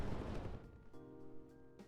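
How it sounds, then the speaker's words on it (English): Mortar fire in the WARNO strategy game, a single deep booming blast that rolls off into a fading rumble, followed by quieter tonal game sounds and a faint pop near the end. "getting the mortar spam out"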